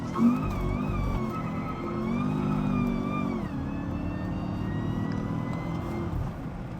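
Supercharged 6.2 liter V8 in a second-generation Cadillac CTS-V accelerating hard from about 3,800 rpm, a loud, steady engine roar whose pitch climbs, dips at a shift, then builds again.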